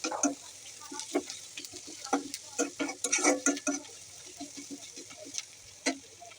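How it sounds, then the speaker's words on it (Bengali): Chopped onions fry lightly in a pan with a soft, quiet sizzle, broken by scattered clicks and scrapes of stirring. "পেঁয়াজটাকে একটু হালকা ভেজে নিতে হবে।"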